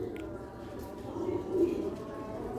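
Green-speckled flying pigeons at a home loft coo in a low, steady murmur throughout, with a slight swell near the middle, while background chatter carries on.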